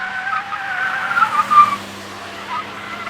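A Kia Picanto GT weighing 1,007 kilograms is driven on a racetrack, with engine drone and squealing, skidding tires heard close and fairly loud.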